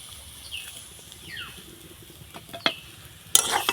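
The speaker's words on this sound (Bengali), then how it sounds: "নাড়াচাড়া করে মিশিয়ে নিব" Egg cutlet filling with garam masala and chopped coriander being stirred in a pan, with faint scraping and soft sizzling, then a few sharper metallic clinks of a spoon toward the end.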